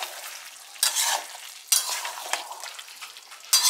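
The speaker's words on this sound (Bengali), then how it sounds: "লিডটা ওপেন করার পর কিন্তু একটু নাড়াচাড়া করে নেবে" Mutton kosha is stirred in a pot, with bursts of scraping and sizzling in short uneven strokes, close and loud over a quieter background hiss.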